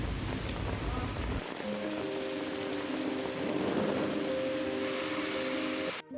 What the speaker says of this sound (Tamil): ஃபுல்லாக மழை பெஞ்சிட்டு இருந்தது.